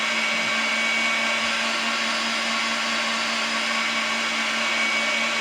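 An electric mixer whipping cream to stiff peaks for a black cherry Kool-Aid pie, a loud, steady motor whir that holds unchanged throughout with no talk.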